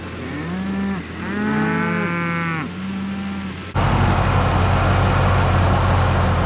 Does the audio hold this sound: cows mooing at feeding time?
yes